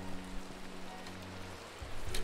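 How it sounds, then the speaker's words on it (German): Steady hiss of pouring rain in the video game Minecraft, a dense, even wash of drops that holds throughout, with a few faint low tones from the game beneath and no talking. "Der Regen, das ist schon brachial."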